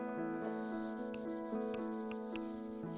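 Steady rubbing as coating is scrubbed off a metal amplifier chassis before painting, a close, continuous abrasive scrape with a faint background hum and no talk.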